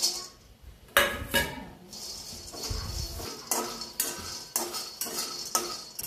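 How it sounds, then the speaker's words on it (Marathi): Peanuts roasting in a pan, with a metal spoon repeatedly scraping and clinking against the pan in uneven bursts, close and clear with no talking. "आता त्यात शेंगदाणे आपण भाजून घेऊ."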